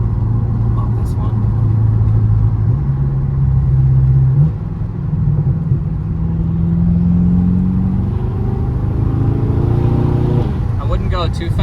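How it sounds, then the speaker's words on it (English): A 700-horsepower BMW M6 Gran Coupe drones loudly through a steady drive, its engine note stepping up and down through gear changes, with a burst of crackling exhaust near the end and speech over the engine. "I feel like these pops and bangs are more natural."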